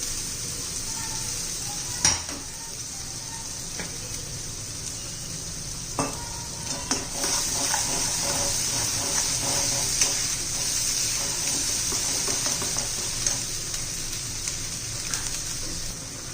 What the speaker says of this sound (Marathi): चांगलं परतून घेऊया, चांगलं तेल सुटेपर्यंत